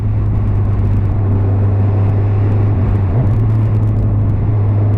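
A 2017 Kawasaki Z1000 motorcycle hums along at a steady cruise, its engine drone constant and loud with heavy wind buffeting. A brief rise in revs comes near the middle of the ride.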